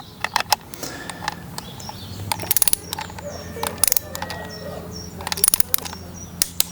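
Torque wrench tightening engine protection bolts on a 2021 Yamaha MT-09 SP motorcycle: repeated close ratcheting clicks in irregular bursts, with faint birdsong in the background.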